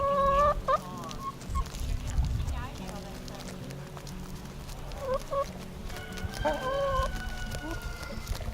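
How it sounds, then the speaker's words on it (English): Free-range chickens clucking and calling outdoors in short bursts, with a rooster-like crow and other fowl mixed in, over steady background noise and occasional human voices. "Free range chickens in action."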